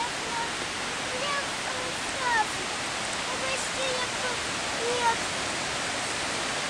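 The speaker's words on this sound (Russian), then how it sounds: "Вот так выглядит первый водопад." A waterfall in a gorge roars as a constant, loud broadband rush of falling water, with faint high chirps over it and no talk.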